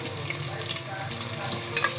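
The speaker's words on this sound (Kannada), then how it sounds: "ಎಣ್ಣೆ ಕಾದಿದೆ. ಇವಾಗ ಈರುಳ್ಳಿ ಹಾಕ್ತಾಯಿದ್ದೀನಿ." Onions sizzle and fry in hot oil inside a pressure cooker, a close, steady crackling hiss with soft stirring scrapes and no voices.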